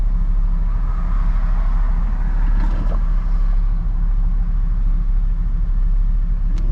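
A car drives up onto a freeway near construction in Fresno, with a steady loud interior road rumble and low engine drone throughout.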